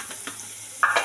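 Turmeric powder stirred into ginger and shallots frying in a pan for puli inji makes a soft, brief sizzle with a couple of sharper stirring scrapes near the end.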